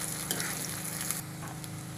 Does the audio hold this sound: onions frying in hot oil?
yes